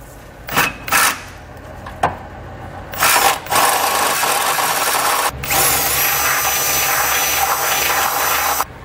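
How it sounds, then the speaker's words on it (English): A power drill with a 9/16 inch bit enlarges holes in the bottom of a 2018 Chevrolet Express frame during a Draw-Tite trailer hitch installation. Short loud whirring bursts come first, then a long continuous grinding run, close by, with no talking. "we're going to need a 9/16 inch drill bit, and we just have to enlarge the 4 holes on the bottom of the frame here on each side"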